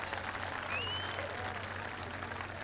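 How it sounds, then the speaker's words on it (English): Outdoor crowd at a skydiving drop zone claps for a fast-landing skydiver: soft, distant, continuous applause lasting a few seconds, with one brief whistle. "Big round of applause for Andy."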